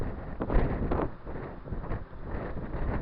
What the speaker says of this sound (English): It's very windy, so I don't know if you can even hear what I'm saying there